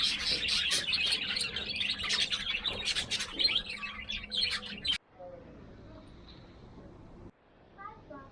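Birds chirp densely and brightly at the Agadir Medina, a Berber village in Morocco. The chorus runs under a person's talking for several seconds, then fades to a few faint, sparse calls.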